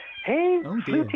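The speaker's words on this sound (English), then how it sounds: "cat has just come in, the cat flap, and it's crying" A house cat, just in through the cat flap indoors, gives a loud, close drawn-out meow followed by a second shorter cry, with a voice speaking over it.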